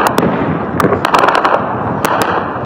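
Rapid sharp cracks and bangs from gunfire and explosions burst in irregular clusters over a dense, rumbling roar of ongoing gunfire during fighting in Khartoum.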